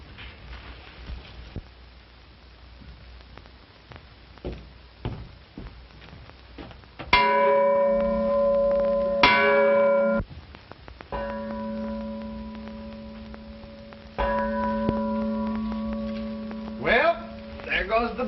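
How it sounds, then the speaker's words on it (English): Bell heard in an old western film, rung in several sustained clanging strokes that ring out, loud against a quiet background. "Well, there goes the bell."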